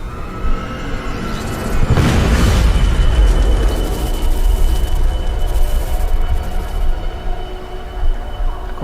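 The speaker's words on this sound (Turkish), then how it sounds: "Aa, patlama." A loud explosion erupts in the video game Deus Ex: Mankind Divided, a sudden heavy boom that fades into a long rumbling, hissing roar lasting several seconds.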